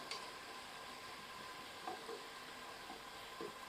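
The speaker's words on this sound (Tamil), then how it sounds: "வெங்காயம் சூப்பரா வதங்கிட்டு இருக்கு." Onions sauté slowly over moderate heat in a pressure cooker pot for a wedding-style mutton biryani, a faint steady sizzle with a few soft stirring touches, quiet and alone.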